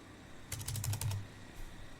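Quick burst of keystrokes on a Windows 11 computer keyboard, about eight close clicky taps in under a second followed by one softer key press, heard alone in a quiet room.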